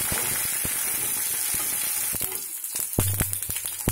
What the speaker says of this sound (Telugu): పోపు ఇవి పప్పులు వేగాయి కదా